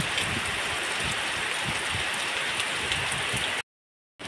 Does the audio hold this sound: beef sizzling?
no